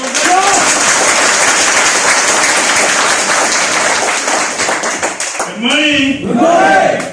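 Loud, sustained applause fills a hall at a DXN company gathering, a dense wash of clapping with voices and cheering shouts rising over it toward the end.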